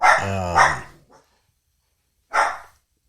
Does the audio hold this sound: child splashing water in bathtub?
no